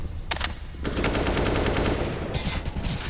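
CS:GO rifle fire sprayed blind through a smoke in a pro esports match, with a short burst followed by a long sustained rapid-fire stream of close, loud shots.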